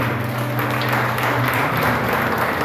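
A church congregation at a communion service applauds together in steady, dense clapping that fills the room for a few seconds, with no pauses.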